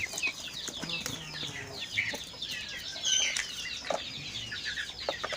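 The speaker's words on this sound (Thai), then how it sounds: "นี่พ่อไก่อีกหนึ่งตัวครับ" Fighting-cock roosters and hens on a gamecock farm cluck and chatter nearby over a busy outdoor background, with occasional wing flaps; no one speaks.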